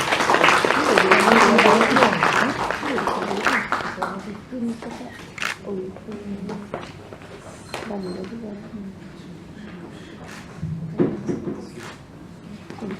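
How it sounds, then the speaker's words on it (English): Audience applause at an award ceremony swells loudly in the opening seconds, then thins to scattered clapping beneath an announcer's voice as a professor is called to the stage. "Professor Dr. Saidur Rahman, have a big applause for him."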